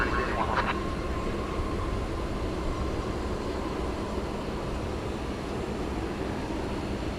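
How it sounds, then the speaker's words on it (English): Broadband roar of a Qantas Airbus A380 jet at DFW Airport at night, a steady, fairly distant rumble holding level throughout with a brief higher tone near the start. "And there's the Qantas A380 right behind it."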